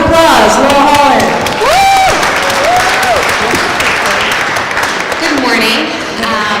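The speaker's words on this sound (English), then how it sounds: "Round of applause, Laurel Holland." Audience applause and cheering for a speaker being introduced at a youth and justice forum, with a whoop near the start; dense steady clapping from a sizable crowd runs throughout, with crowd voices over it.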